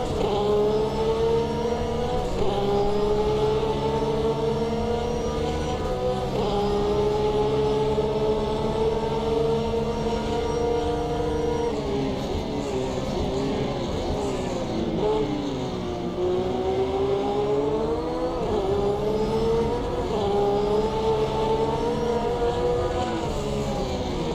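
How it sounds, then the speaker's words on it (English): Race cars in Automobilista 2 drone loudly throughout, steady engine notes rising and falling as they rev and shift gears, several cars close together in a long continuous battle with no talking. "Sound great, these cars."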